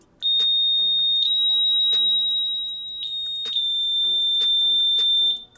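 L&B Quattro audible skydiving altimeter sounding repeated piercing alarm beeps at high pitches, a steady tone with regular pulses, close and loud with no talking.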